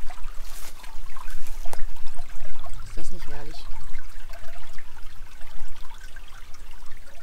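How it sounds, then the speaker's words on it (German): A gently babbling brook in the Märkisches Sauerland near Herscheid, where spring snowflake flowers bloom, trickles steadily and close by, with a voice speaking briefly over the running water. "Es plätschert so leise der Bach."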